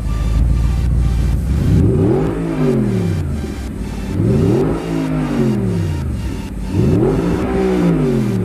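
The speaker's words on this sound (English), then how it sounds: "So now you're gonna rev it before actually you change the exhaust" An Audi R8 engine with its stock exhaust revs three times in a row, each rev climbing to a loud roar then falling back to a throbbing idle, close up.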